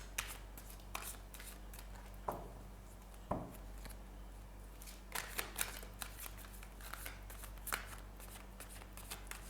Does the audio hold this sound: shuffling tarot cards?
yes